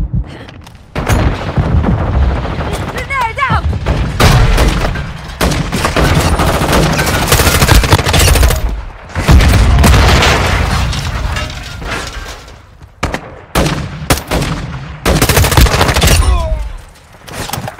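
Heavy gunfire and booming explosions from a mobile battle royale shooter, Warzone Mobile, loud bursts of automatic fire and blasts packed close together, with brief pauses between flurries.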